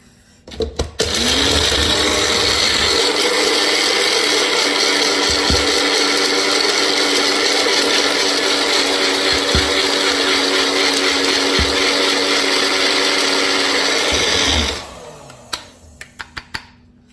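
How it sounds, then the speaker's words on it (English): A NutriBullet blender whizzes a barley mixture in one long, loud, steady whir of about fourteen seconds, starting abruptly and cutting off with a few clunks as it winds down. "just give it another whiz in the NutriBullet"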